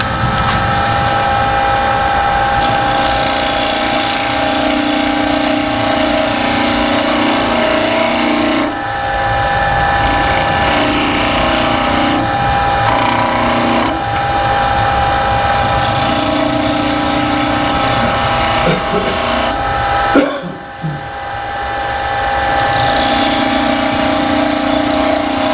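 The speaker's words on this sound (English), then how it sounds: "let your lathe build back up to speed" A wood lathe spins steadily during pen turning, giving a continuous whirring hum with faint tool contact and scraping moments, and a brief knock near the end before the motor picks back up.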